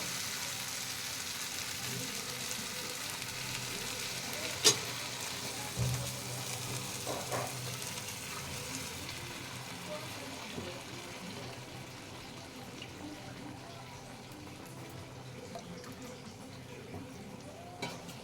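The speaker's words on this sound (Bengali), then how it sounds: "এবার এখানে আমি রাজমার যে জলটা রেখেছিলাম ছেঁকে, সেই জলটা ঢেলে দেব।" Reserved rajma cooking water goes into a pan and is stirred, giving a quiet, steady simmering hiss with a few soft scrapes and one sharp clink partway through.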